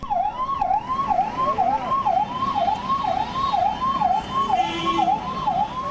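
An ambulance siren wails in a fast, repeating up-and-down pattern, loud and close, over a low traffic rumble, in a city during the coronavirus pandemic.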